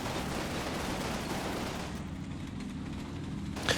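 Cannon and gunfire battle sounds from Combat Mission Battle for Normandy, with the fight over Carentan Square among collapsing buildings, forming a dense, continuous roar of war noise; a sharper burst stands out right at the end.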